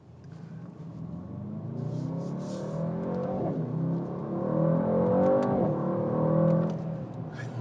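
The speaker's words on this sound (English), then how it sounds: "I love downshifting in this car." A Mercedes-AMG GT63S 4-Door heard from inside as it downshifts and accelerates, the engine note rising and blipping through gear changes, a steady loud rumble swelling and easing over several seconds with no talking.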